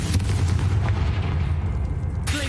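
A Confringo fire spell in Hogwarts Legacy booms into a deep, rumbling explosion with a heavy low roar that holds steady before a sharp crackle near the end. Loud and close, with no speech.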